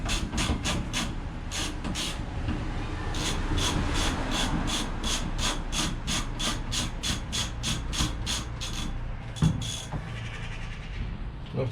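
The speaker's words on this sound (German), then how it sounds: "Jetzt kommen oben die Schrauben dran." Screws go in at the top of a partition wall, producing a long run of rapid, rhythmic rasping and ratcheting pulses close by, with a sharp knock partway through.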